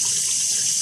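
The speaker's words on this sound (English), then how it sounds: "the old coolant is coming out of the car" Old coolant drains steadily from the radiator of a 2005 Hyundai Elantra, a continuous close splashing gush of liquid with no pauses.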